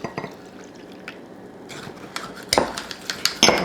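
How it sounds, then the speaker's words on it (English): Spoon stirring iced pumpkin coffee in a glass, producing faint liquid swishing followed by a run of bright clinks and rattles of ice and metal against glass, growing louder toward the end. "I'm gonna stir it up."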